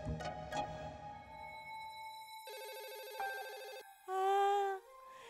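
A telephone rings in a series of bright, tonal electronic trills that shift pitch and pattern over a few seconds, ending in a loud sustained burst, heard alone with no talking.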